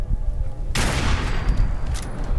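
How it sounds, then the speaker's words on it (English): Gunfire in Fallout 4's Nuka World expansion: a burst of rapid shots erupts suddenly and rattles on loudly as a dense volley, with no speech. "Our new Vic sure knows how to dodge some bullets."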